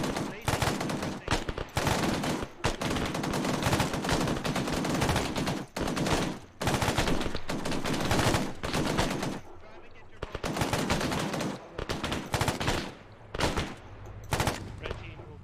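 Sustained suppressing gunfire in the military game ArmA, loud and continuous bursts of automatic weapons with brief gaps, near and dense throughout.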